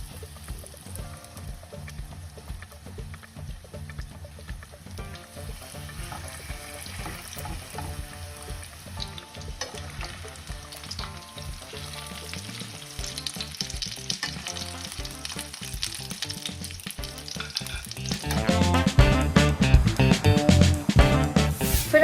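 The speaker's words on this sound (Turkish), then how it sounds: "hazırladığım tavuklarımı tavama alıyorum." Chicken sizzling and frying in a hot pan, a continuous crackling hiss that grows louder and more intense toward the end.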